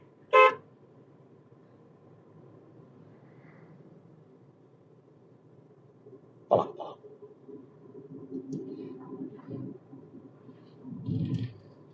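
A short car horn toot sounds, then another a few seconds later, over a steady low engine rumble and faint traffic.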